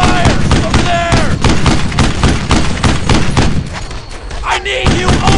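Dense, loud gunfire from the WWII shooter video game Brothers in Arms: Earned in Blood, with rapid rifle and machine-gun shots and heavy thuds, while voices shout over the battle.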